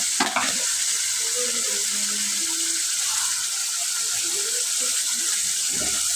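Spice paste for a sorputi fish curry fries in a pan with a steady, close hiss, a few stirring scrapes near the start and end, and faint talk in the background.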